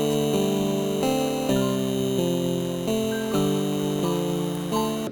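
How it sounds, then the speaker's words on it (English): Close grand piano preset playing sustained chords and a melody during a song breakdown with the percussion cut out, steady and intimate, with no other instruments or voices. "This one is supposed to be a close grand preset"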